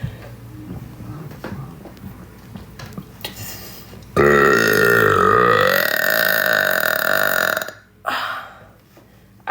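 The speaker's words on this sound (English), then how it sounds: "It's getting them in one long burp that is difficult." Very loud, long continuous burps from a person, one sustained belch lasting several seconds after some quieter sounds, then a shorter burp following.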